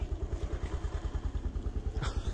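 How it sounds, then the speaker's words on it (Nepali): A motorcycle engine idles close by after starting, on a trip toward Muktinath: a fast, even thumping pulse with a brief clatter near the end and no talking. "बाइक स्टार्ट भइसकेको अवस्था छ"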